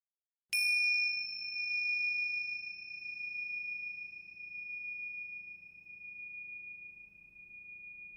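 A single bright bell chime strikes once and rings on with a clear sustained tone that slowly fades, alone against faint background hum, marking a break in a dream-interpretation podcast.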